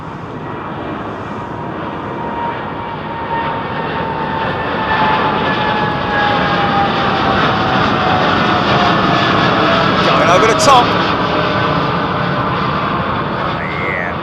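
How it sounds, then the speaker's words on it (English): A WestJet Airbus A320ceo airliner departing London Heathrow, bound for Calgary, its jet engines roaring steadily and loudly throughout with a broad sustained rumble that swells slightly as it climbs away. "This is WestJet, Calgary bound, I think."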